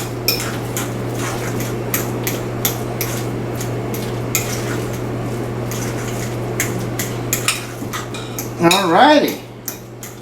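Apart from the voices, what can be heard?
mashing boiled potatoes with milk by hand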